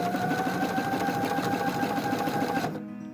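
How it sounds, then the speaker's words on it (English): A sewing machine back stitching runs steadily with a rapid even stitching rhythm, then stops abruptly near the end. "I'm going to do some back stitching here."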